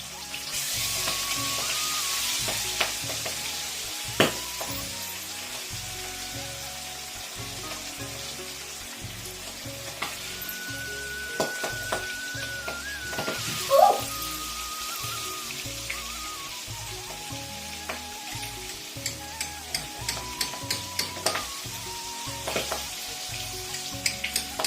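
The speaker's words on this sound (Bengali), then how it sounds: "দেখো আমার মাছের মাথা কিন্তু ভাজা হয়ে গেল" Fish heads and pieces frying in hot oil in a pan, giving a soft continuous sizzle with scattered pops and crackles, fairly quiet and steady throughout.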